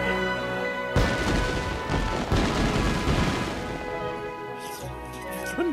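In Ni no Kuni: Wrath of the White Witch, loud booming fireworks crack out in quick succession, one after another, each followed by a crackling, rumbling tail, going off close by.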